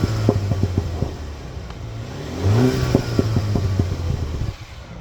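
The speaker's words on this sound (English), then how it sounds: "with the sport mode, famously, it brings some pops and bangs into the car." A grey 2.0 petrol MINI Cooper S 3-door manual in sport mode, its exhaust crackling with a rapid series of sharp pops and bangs over a rising and falling engine note, close and fairly loud.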